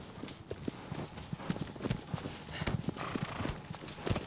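A horse gallops in Shadow of the Colossus, with rapid, irregular hoof clip-clops over a rough, noisy background, moderately loud and steady throughout.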